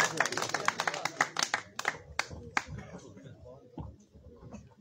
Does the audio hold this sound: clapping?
yes